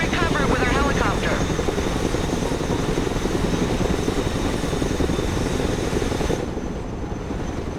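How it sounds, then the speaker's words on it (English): A Chinook cargo helicopter flies low and loud in the Broken Arrow war game, its steady rotor thrum and engine roar running almost the whole time before dropping off sharply near the end. "Let's go and recover it with our helicopter"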